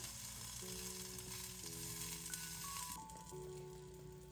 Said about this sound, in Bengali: এখানে বেগুন তারপরে টমেটো ভাজা হচ্ছে